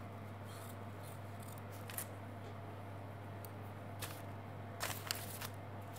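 Scissors trimming fabric for a quilt, a handful of soft, crisp snips scattered at irregular intervals over a low steady hum, close and quiet, with no talking.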